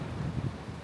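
Strong wind gusts buffet the microphone on a stormy day out near Hvar, a low rumbling roar that swells and pulses unevenly through the short moment, with no voices.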